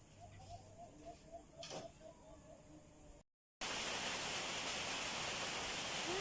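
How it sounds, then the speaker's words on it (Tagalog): Heavy rain pours down outdoors near a balayong tree, a dense steady roar of hiss that starts suddenly after a quieter stretch with a short gap of silence. "kusog sa uwan"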